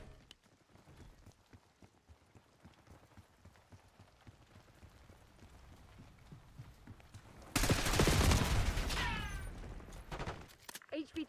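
Gunfire in the video game Black Ops 6 crackles faintly at first as scattered distant shots, then swells into a loud, dense burst of rapid fire, with voices talking throughout.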